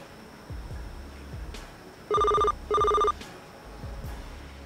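A telephone rings indoors at night in two short, shrill bell bursts separated by a brief pause, clear over a quiet background with no talking.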